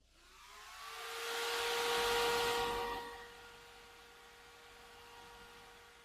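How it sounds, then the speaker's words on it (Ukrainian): Forced ventilation fans in a 2012 Volvo FH livestock truck, a whooshing airflow with a steady tonal whine that swells to a peak and then settles to a lower, continuous hum. "Примусова вентиляція також включається з пульта керування або з салону."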